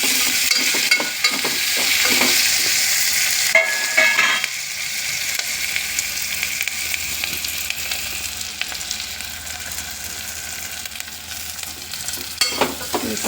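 Curry leaves and onion sautéing in a pan, a loud steady sizzle with spatula scrapes and stirs near the start, continuing evenly with no talk.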